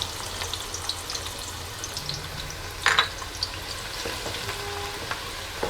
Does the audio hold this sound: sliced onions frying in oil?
yes